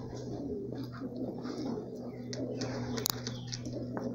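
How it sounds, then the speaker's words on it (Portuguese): Pigeons cooing close by among a group of about fifteen racing pigeons being readied for release, soft repeated low coos over a steady background hum, with a brief sharp knock near the end. "Pus uns 15 pombos aí, ó."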